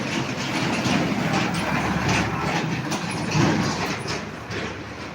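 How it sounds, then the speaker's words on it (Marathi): A tractor drives along a roadside near a small hotel, giving a steady, moderately loud engine rumble and rattle that swells slightly midway before easing off, with no talking. "ते रस्त्याने ट्रॅक्टर चाललेला आताच खाली करून आलेला आहे"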